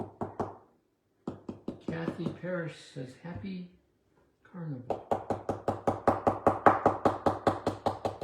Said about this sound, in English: Sorry for that knocking noise.